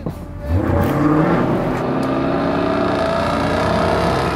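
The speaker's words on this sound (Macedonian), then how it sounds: "Она што ме фасцинира во овој автомобил е звукот кој наликува како да е грмотевица." A Jaguar performance car from 2012 roars loudly on a Portuguese race track used for GT2 and GT3 racing, its engine rising into a sustained, thunderous rumble that holds steady and close.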